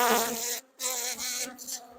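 Honeybees buzzing at an opened hive during a queen introduction check after a stormy day, a dense close swarm hum with a brief dip in the middle, no talking.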